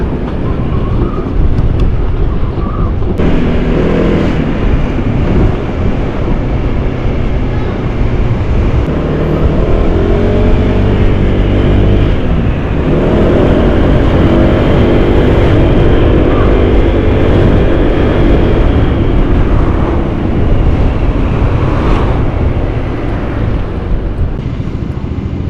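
A 2023 Honda PCX125 scooter rides through city streets with a steady engine drone and heavy wind and road rumble, loud and continuous, with shifting engine tones and no talking.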